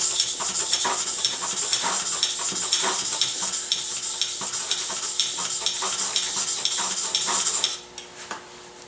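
A hand plane blade being sharpened with a back bevel gives repeated quick scraping strokes, steady and fairly close, in a fast rhythmic series that stops near the end.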